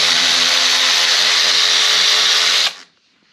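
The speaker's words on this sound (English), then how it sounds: "First, we are removing these screws" A power tool whirs loudly and steadily for about two and a half seconds, backing out 5mm screws from a Nutt brake caliper on a KOMOTO D2400, then cuts off abruptly.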